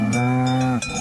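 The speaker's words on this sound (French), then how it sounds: "sa cloche fait trop de bruit" A cowbell worn by a cow clangs steadily with a sustained ringing tone, close and loud, with a brief dip near the end before it rings again.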